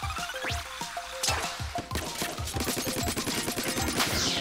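Splatoon 2 shooting at a target, a quick rhythmic string of sharp splatty shots firing in steady succession, close and loud, building into a denser barrage toward the end.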